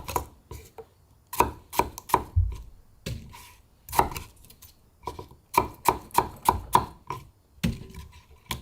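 A knife slices pear pieces on a cutting board in a home kitchen, giving crisp, close chopping taps in quick irregular bursts with short pauses between runs.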